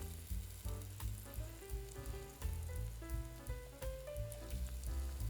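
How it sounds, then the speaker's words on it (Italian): Toasted morchia, hot browned butter fat, sizzles and foams as it is poured over freshly boiled cjarsons, the filled pasta of Carnia; a steady dense crackle, close and fairly quiet, with no talk. "Aggiungiamo sopra la morchia, sentite, deve essere spumeggiante."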